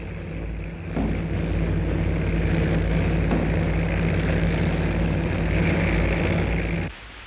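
B-29 Superfortress bombers landing at Iwo Jima during the Pacific war, some of them battle-damaged, make a loud, steady engine roar that sets in after a second, holds for about six seconds, then drops away.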